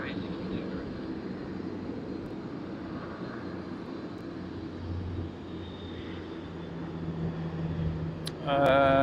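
Airliner taxiing at Sydney Airport, a low steady engine rumble and hum heard from a distance, continuous for several seconds and ending with a brief louder burst.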